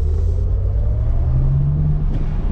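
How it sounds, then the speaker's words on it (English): Maserati GranCabrio Folgore EV, an 818 hp electric convertible, accelerating with a steady low motor hum and road rumble, the whine rising slightly in pitch as it gains speed. "the acceleration is just really, really impressive"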